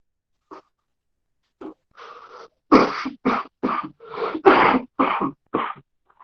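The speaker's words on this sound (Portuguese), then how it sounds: "perdão pela tossida agora." A physics teacher coughs repeatedly during a lesson, a series of about eight sharp, close coughs in quick succession after a few softer throat sounds, alone with no talk.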